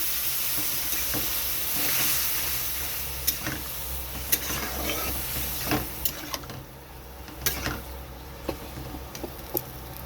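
Kidney beans (rajma) frying in a spiced masala for rajma ghugni, a steady close sizzle and hiss broken by repeated spoon scrapes and knocks as the mixture is stirred.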